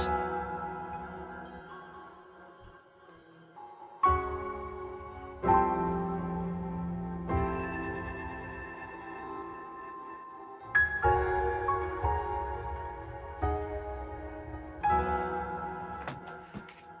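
Sparse piano chords ring out one after another through grain reverb pitched up an octave and grain delay, each note fading into a long reverberant wash with shimmering, delayed echoes, quiet and spacious.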